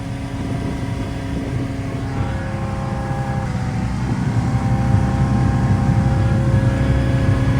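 A boat powered by a 305 small block engine revs loudly and steadily on a frozen lake, the engine note rising slightly toward the end, close and without talk.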